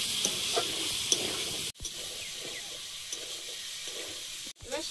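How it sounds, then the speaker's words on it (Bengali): Shrimp frying with potatoes in a pan give a steady sizzle with scraping stirs, broken by two brief sharp cuts in the sound. "এবার চিংড়িটা দিয়ে আরো ভালোভাবে আলুর সঙ্গে ভেজে নেব।"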